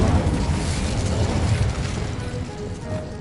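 A fire spell, Incendio, cast in Hogwarts Legacy on PS5, a loud roaring burst of flame that rumbles low and slowly fades over a few seconds.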